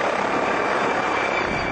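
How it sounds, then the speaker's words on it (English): Tourist helicopter flying over Huaxi village in China, a steady broadband rotor and engine roar, continuous and fairly loud throughout. "Huaxi has its own helicopters for tourist joyrides"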